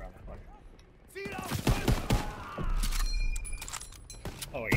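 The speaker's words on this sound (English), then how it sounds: "He's shooting." Gunfire crackles during a Call of Duty: WW2 campaign battle, with sharp overlapping shots and bursts over a rumbling battlefield din, close and loud, alongside shouting and mechanical clatter.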